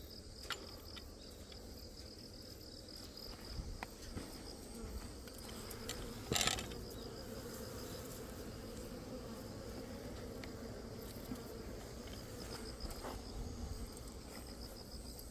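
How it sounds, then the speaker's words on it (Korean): Faint, steady buzzing of hornets hovering near honeybees continues throughout, with one sharp click partway through. "말벌이 꿀벌 앞에서 이제 잡을 준비를 하고 활공을 할 때"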